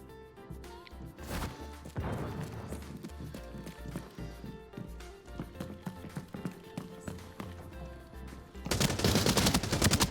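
Gunfire rings out in the video game Arena Breakout Infinite, rapid irregular shots and bursts mixed with running footsteps, ending in a loud sustained barrage of automatic fire.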